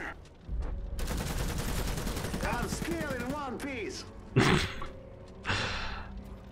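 Rapid bursts of gunfire in the real-time strategy game Iron Harvest, a dense rattling volley followed by two sharp heavy blasts, loud and close, with a voice breaking in briefly amid the shooting.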